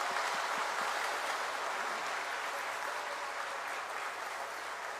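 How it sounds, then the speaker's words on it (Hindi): Enthusiastic applause from an audience at a tribal conference in Nagpur greeting national guests, a steady, dense wash of clapping that stays loud and even throughout with no voices over it. "आप लोग एक बार सबके सम्मान में इनका जोरदार तालियों से स्वागत करें।"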